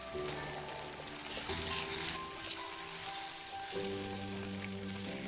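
Egg mixture seasoned with salt and pepper sizzles and fries steadily in a pan, a close, continuous crackle with no talking.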